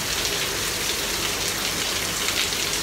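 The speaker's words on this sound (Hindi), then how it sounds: "बहुत टाइम के बाद ऐसी बारिश देखने के लिए मिली है" Heavy rain pours steadily in Ajman, UAE, in a dense, even hiss with no pauses, loud and close.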